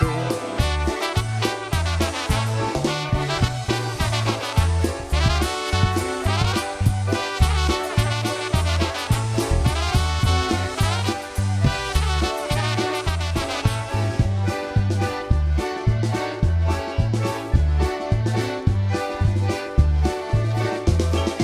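An old-standard polka sung by a vocalist over a band with a steady oom-pah bass beat, bright accordion-like chords and sharp percussion, loud and continuous throughout.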